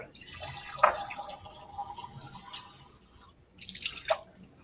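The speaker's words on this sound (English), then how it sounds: "I'm going to just rinse my egg off there real quick" Soft water sounds come from an egg being rinsed in a beaker of water: faint sloshing with a couple of brief drip-like plinks, quiet and close.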